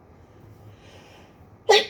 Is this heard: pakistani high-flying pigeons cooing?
no